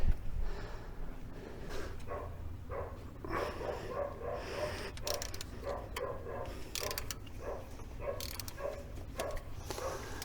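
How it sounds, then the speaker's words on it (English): A dog across the road barks repeatedly at passing dogs, distant and fairly faint, the bursts irregular over a steady mechanical clatter and background hum. "There's a dog across the road, and every time another dog walks by, he goes mental."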